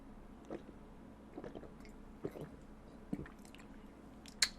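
Close, quiet swallowing of a glass of water: a few soft wet gulps and mouth clicks spread across several seconds, ending with a sharper sip sound, no talking.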